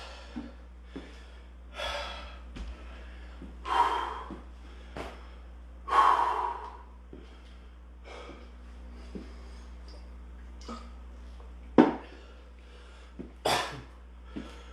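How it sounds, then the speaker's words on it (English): Deep, heavy breaths between rounds of a workout, a series of loud, close exhales and sharp inhales spaced a few seconds apart over a low steady hum, no talking. "Deep breaths."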